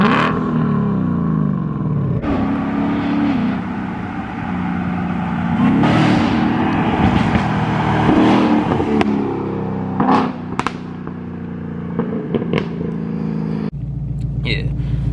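A supercharged 5.0 car engine rumbles and revs in several rising bursts with deep throaty roars, while someone talks over and between the revs.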